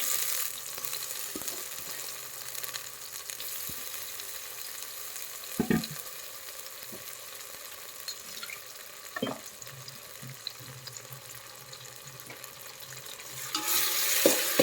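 Dried shrimp fry in a couple of spoons of oil, giving a steady, soft sizzle with a few sharper crackles and a stir near the end, nearby and continuous.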